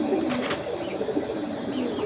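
A racing pigeon coos softly up close in a loft, with low, throaty murmurs running through a short stretch over steady background noise and no talking.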